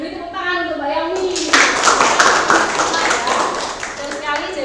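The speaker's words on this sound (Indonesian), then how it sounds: "Beri tepuk tangan untuk Mbak Yaumi" A classroom of students claps together in a dense, steady burst after a teacher's voice during a chemistry lesson on acids and bases, the applause loud and close for several seconds.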